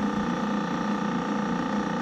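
An HVAC compressor runs with a constant mechanical hum and a fine, steady rattle from a refrigerant restriction while pumping down, unchanging for the whole stretch, nobody speaking.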